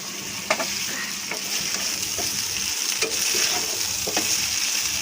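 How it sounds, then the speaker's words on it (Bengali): Food sizzles steadily in hot oil in a kadai (wok) while it is stirred, with a dense continuous frying hiss and scattered scraping clicks from the spoon, close and fairly even throughout with no talking. "হ্যাঁ ধরে নাড়বে, আমাদের কড়াই উল্টে যায়"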